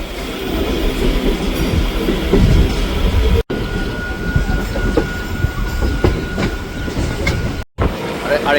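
A Howrah–Bardhaman super local train on the chord line runs along the tracks with a steady loud rumble and clatter of wheels and carriages, near and continuous, with brief dropouts.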